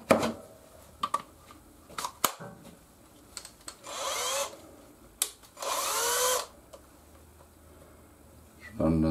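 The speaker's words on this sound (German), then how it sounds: "spanne das hier mal in den Akkuschrauber ein" A cordless drill whirs in two short bursts of a second or so each, amid scattered clicks and handling knocks in a workshop during work on a Zündapp 442 carburettor.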